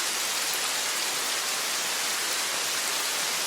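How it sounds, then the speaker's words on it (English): Heavy rain pounds against a window as a dense, even hiss of drops that stays steady and loud without a break. "the rain pounded harder against the window beside them"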